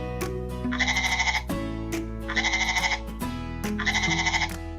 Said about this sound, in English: Each goat sound counts as 1.